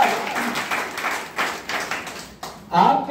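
Scattered clapping from a small audience at a meeting, welcoming new people, broken into a few bursts with a speaking voice running over and between them.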